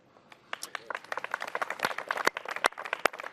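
A room applauds Canada's new federal cabinet, scattered claps building into a brisk, irregular round of clapping from a modest crowd, with no speech over it.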